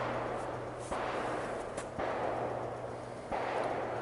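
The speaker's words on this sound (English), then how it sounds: "My neighbor's shooting." A neighbor's gunshots echo from far off outdoors, three faint, spaced cracks over a low steady background hum.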